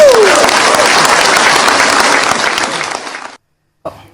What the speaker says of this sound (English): That was a beautiful round of applause there, Ayo.